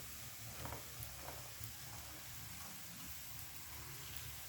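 Half a small shredded cabbage fries on a high gas flame and is stirred in a pan, giving a soft, steady sizzle with faint scraping from the stirring, heard alone and fairly quietly.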